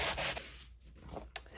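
Soft, scratchy strokes of sandpaper rubbing across a textured mixed media art surface, a few uneven passes close by, fairly quiet with no talking.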